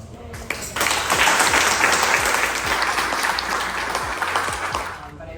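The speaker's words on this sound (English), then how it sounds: "I appreciate your round of applause for all." An audience at an awards event at a hotel breaks into loud, sustained applause, dense clapping filling the room and easing off slightly toward the end.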